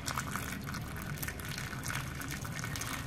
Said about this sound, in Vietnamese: Sau đó mình sẽ rót nước nóng vào.